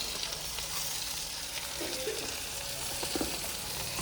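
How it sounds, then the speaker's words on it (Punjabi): Spices for a vegetable dish crackle and sizzle in hot oil as a tempering, with a constant frying hiss and a few faint stirring sounds, no voices. "ਸਿੱਧੀ ਤੜਕਾ ਲਾਉਣੀ ਹੈ"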